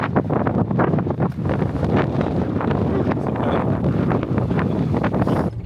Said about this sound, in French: comme tu l'entends, il y a énormément de vent